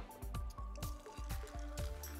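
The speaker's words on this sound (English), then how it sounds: "Then you're gonna fill the rest with soda water." Soda water poured into a cup, a close bubbly trickle with repeated dripping, squishy fizzing pulses across a couple of seconds.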